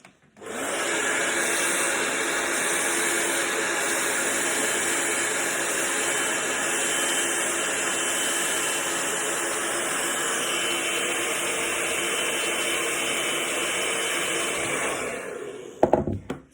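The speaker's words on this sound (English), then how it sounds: "So you don't want to be holding the hairdryer on the hair too long" A hair dryer blows steadily on hair for a home blow-dry, a loud continuous airy whoosh that holds evenly for about fifteen seconds before cutting off with a brief clunk.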